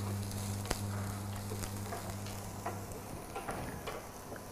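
Cabbage heats in a pan with a soft, even sizzle and occasional faint ticks and pops over a low steady hum, quiet and close.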